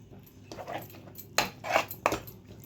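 A spoon or spatula scrapes and clinks against a cooking pan in a few short strokes while masala food is mixed, close and moderately quiet, with no talking during the strokes.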